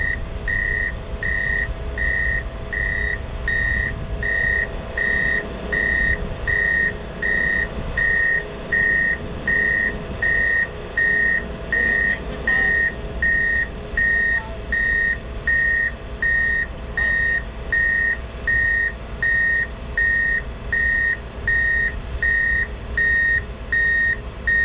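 Reversing beeps sound in a steady, evenly spaced series from a truck while a Caterpillar 944K wheel loader is loaded, carried over a continuous low engine rumble.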